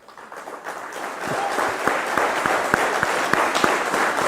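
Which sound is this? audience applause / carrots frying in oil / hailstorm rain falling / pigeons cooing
audience applause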